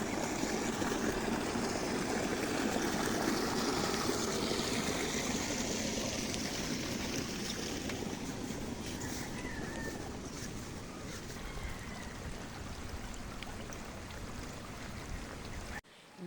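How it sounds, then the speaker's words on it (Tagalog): Fast water rushing through a drainage canal beside a poultry farm during monsoon rain, a steady, dense, broadband roar that stays loud and unbroken, with no voices. "Kapag hindi pa rin tumigil ang ulan ng mga ilang araw ay lalakas palalo ang agos ng tubig dyan sa may kanal."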